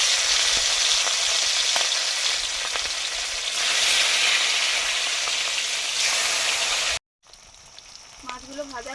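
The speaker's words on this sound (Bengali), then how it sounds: "মাছগুলো ভাজা হয়ে গেছে" Hilsa fish pieces fry lightly in a pan with a loud, close, steady sizzle for several seconds before it cuts off abruptly and gives way to quieter kitchen sounds.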